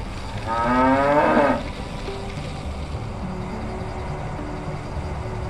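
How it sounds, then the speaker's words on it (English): A cow moos once beside a quiet road in Norway's Dovre valley, a clear, drawn-out call lasting about a second, followed by low traffic rumble and fainter distant lowing. "Cows often claim the road without a care in the world for you or your bike."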